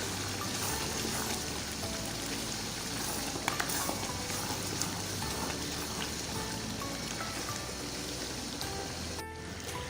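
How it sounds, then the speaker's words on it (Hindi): Spiced misa gosht sautés in a pan with a faint, steady crackling sizzle like light rain and occasional stirring clinks, quiet and continuous throughout. "تمام مسالے ڈالنے کے بعد اچھی طرح سے بھنائی کر رہا ہوں"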